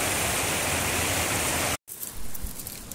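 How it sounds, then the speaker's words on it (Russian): Icy mountain waterfalls on a Chatkal range stream in Uzbekistan roar in a steady, dense broadband rush, close and loud, broken by a brief cut before continuing alone with no voices. "Послушайте шум от водопадов."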